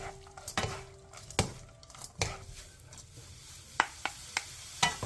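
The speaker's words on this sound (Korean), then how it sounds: "명엽채에 양념이 골고루 묻을 수 있게 2분 정도 골고루 뒤적여주세요" Dried shredded pollack tossed and stir-fried in bubbling seasoning sauce, with a spatula scraping and knocking against the pan in irregular sharp strikes over a steady sizzle, close and alone.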